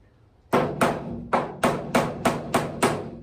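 Eight sharp hammer blows ring out at a steady, quick pace after a short quiet stretch, each strike crisp and close, during a bed floor install on a 1956 Chevy.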